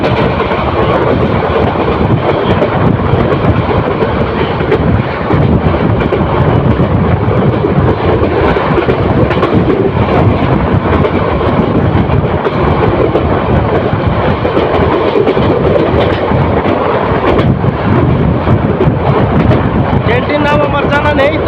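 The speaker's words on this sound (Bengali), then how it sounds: "সামনের দিক থেকে আরো একটি ট্রেন আসছে এই যে" An oncoming train approaches on the Dhaka to Bhairab line beside a moving express, making a loud, continuous roaring rush of wheel and engine noise that holds steady throughout.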